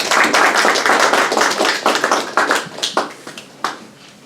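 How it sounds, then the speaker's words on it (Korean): An audience in a community briefing hall applauds to welcome an immigration lawyer to the stage, a dense burst of clapping that thins out into a few scattered, fading claps near the end. "우리 나오실 때 크게 박수에 환영하겠습니다."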